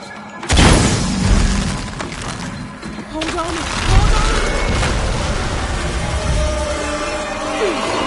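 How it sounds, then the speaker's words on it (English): A heavy explosion in Shadow of the Tomb Raider bursts in suddenly and loudly, then rumbles and debris clatters into a second boom, with a voice speaking underneath. "I'll need to create an explosion to raise the platform."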